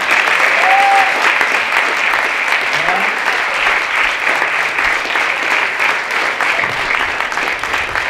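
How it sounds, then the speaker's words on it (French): Crowd applauding volunteers at a French charity marathon event, sustained clapping at a steady, loud level throughout, with a faint voice briefly audible early on. "vous pouvez les applaudir aussi"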